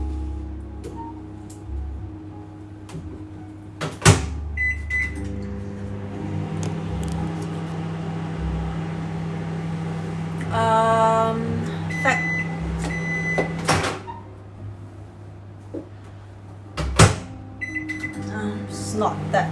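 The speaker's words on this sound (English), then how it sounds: "gonna put this in the microwave for about 7 seconds, just to give it a quick blast" A microwave oven runs for a few seconds to warm mascarpone for a mini hojicha Basque cheesecake, giving a steady low hum with beeps and door clunks, under intermittent talk.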